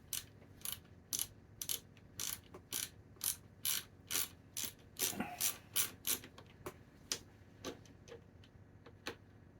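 A socket ratchet clicks rapidly in steady bursts, close and crisp, as it works a screw loose on a C4 Corvette pop-up headlight, then the clicks thin out into a few sparse ticks.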